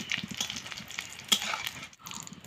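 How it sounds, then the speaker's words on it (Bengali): Papad rolls frying in hot oil give a steady, close crackling sizzle with dense fizzing bubbles that dips briefly near the end before resuming. "এভাবেই সবগুলো রোল আমি ভেজে নেব।"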